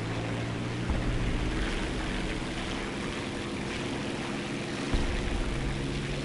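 Airplanes in a video game drone steadily with a broad, continuous engine and propeller roar that stays loud and even throughout, with no talk over it.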